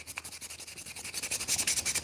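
A slingshot is sanded by hand in rapid, rhythmic back-and-forth strokes, a close, dry scratching rasp that quickens and grows slightly louder toward the end, with no talking.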